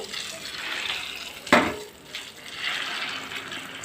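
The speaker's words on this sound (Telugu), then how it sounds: "ఇక్కడ వాటర్ వేస్తే నేను ఈ నీళ్ళలో వేస్తున్నాను" Puffed rice drops into a bowl of water in one short splash with a rustle, close by, amid quiet kitchen room noise.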